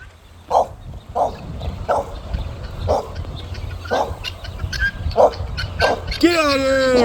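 Dogs give short yipping barks at an even pace, about one each second, close by, with shouting voices mixed in and a honking bird call at the end.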